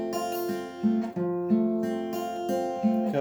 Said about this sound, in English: I played the F twice just to demonstrate.